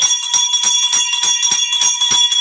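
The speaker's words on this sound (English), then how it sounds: "I'll ring the bell for y'all." A bell rings in a fast, even series of about nine sharp strikes over a couple of seconds, loud and close, each leaving a bright ringing tone, with no talking.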